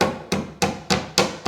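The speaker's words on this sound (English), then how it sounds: "I'm just going to use the rubber of my hammer to tap that down" Five evenly spaced taps of a rubber hammer knock a stairbox apron lining into place, each a sharp, close, dull thud with a short decay, in a steady rhythm with no talking.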